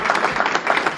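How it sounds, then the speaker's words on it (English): Short burst of audience applause at an auctioneer championship finals, a dense steady patter of clapping throughout the brief moment with some voices mixed in. "If y'all want to give them a round of applause"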